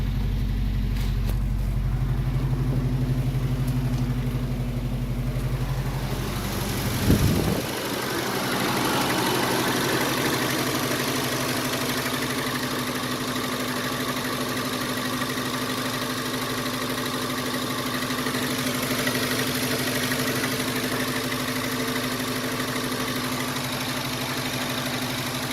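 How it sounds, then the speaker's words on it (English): A 1986 Nissan D21 pickup engine idling as it warms up, a steady close low rumble with a brief clunk early on, then a smoother, slightly higher hum that holds alone. "RPMs will rise a little bit more as she starts warming up and getting up to temperature."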